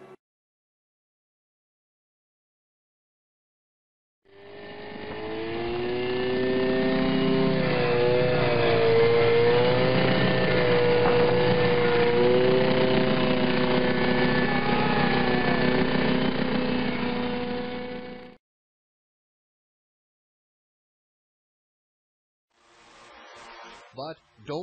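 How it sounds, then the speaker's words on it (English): A jetpack's 2-liter V4 gasoline engine runs loud and steady for about fourteen seconds, a harsh droning roar with wavering tones, starting and cutting off abruptly. "it uses ordinary gasoline to power its 2-liter V4 engine"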